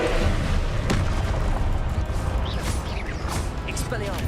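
In Hogwarts Legacy, a Confringo spell lands with a sharp blast, followed by crackling bursts and whooshing effects in a busy, noisy game mix.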